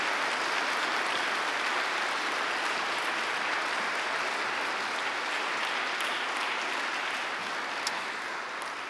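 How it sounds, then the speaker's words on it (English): Sustained applause from a church audience honouring an archbishop at a memorial lecture, dense and steady clapping lasting the whole stretch and thinning slightly at the end, with no talk over it. "perhaps we can give Archbishop a round of applause."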